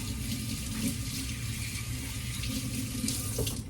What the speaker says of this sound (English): Let me rinse that off real quick.